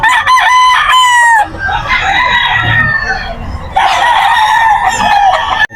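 A nine-month-old straight-combed stag gamecock at the Bocaue pet market crows loudly and close, several drawn-out calls with clucks and market chatter between them.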